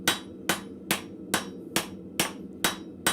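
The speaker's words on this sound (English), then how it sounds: "with the cross peen, I'm going to start flaring this out a little bit" Blacksmith's cross peen hammer striking hot steel on an anvil to flare it out, eight sharp, ringing blows at a steady rhythm of roughly two per second, close and clear with no talking.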